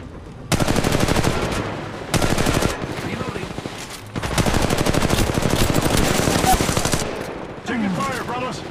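Gunfire in the mobile shooter Apex Legends Mobile, with loud sustained automatic bursts broken by short pauses and a calmer stretch near the end.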